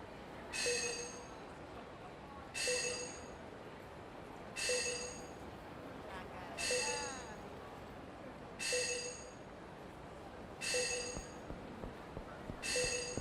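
A phone rings in the Yakuza 4 video game, sounding as a repeating electronic trill in short bursts about every two seconds over a faint background, somewhat distant.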